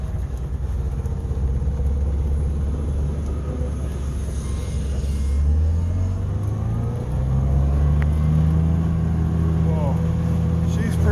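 A smoky, fouled-up two-stroke vehicle drives along, its engine droning low and then rising in pitch as it picks up speed, heard up close from inside with steady road rumble.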